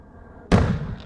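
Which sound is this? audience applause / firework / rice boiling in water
firework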